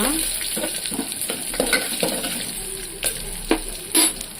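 Cashews fry and are stirred in oil in a pan for moong dal pongal, giving a steady sizzle with repeated scraping stir strokes throughout.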